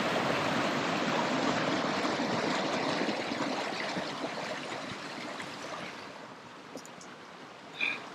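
Wattle Camp Creek flows steadily with a broad rushing wash of water, fairly close, easing a little toward the end with a brief splash.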